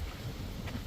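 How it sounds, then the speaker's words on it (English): Strong wind buffets a microphone on an exposed ridge in a conservation park, a steady, loud low roar of gusting noise with no voices. "It is very windy up here, so it's going to be a little hard to film."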